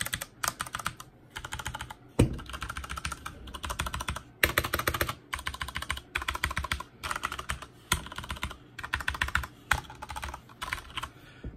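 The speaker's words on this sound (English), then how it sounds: "So that's basically what the keyboard sounds like from up close." Rapid, uneven clacking of keys typed on a Fnatic Gaming Pro keyboard, recorded very close, in bursts separated by short pauses with no talk.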